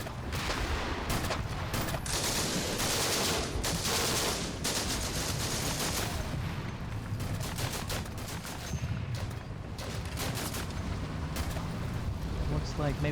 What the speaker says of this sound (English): And rounds are starting to fall.